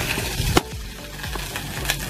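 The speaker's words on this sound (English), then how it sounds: "We're going to let that butter melt." Butter melts in a pot over the stove for spaghetti, giving a soft, steady sizzle with periodic scraping strokes of stirring and a sharp clink near the start, close and moderately quiet.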